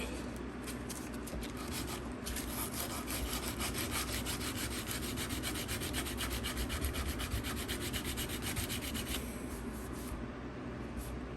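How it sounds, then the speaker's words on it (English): Steady, continuous abrasive scraping of hand sanding a steel knife blade at an angle, close and even in rhythm, with rapid back-and-forth strokes throughout and no talking. "I'm sanding it at an angle this way"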